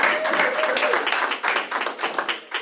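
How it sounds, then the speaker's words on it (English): A short round of applause from a small group of coworkers at a team meeting, steady close clapping lasting a few seconds. "We want to give you all a round of applause for Red Day."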